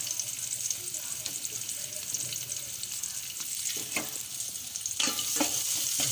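Onions being sautéed in a pan for Kapampangan chicken adobo, a steady close sizzle with scraping stirs and a few sharper clatters toward the end, no talking.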